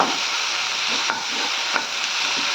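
Onion and tomato sauté in a pan, a steady close sizzle running throughout with a few soft scrapes of a spoon against the metal.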